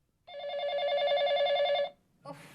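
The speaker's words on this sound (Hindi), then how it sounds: "वो इतनी रात को किसका फोन आ गया," An old-style telephone bell rings late at night indoors, one continuous trilling ring lasting under two seconds, clear and fairly close, followed by a brief burst of another sound.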